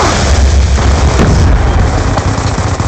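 A loud, close explosion booms in a first-person capture-the-flag shooter on the Cargo map, leaving a heavy rumbling roar that slowly thins out.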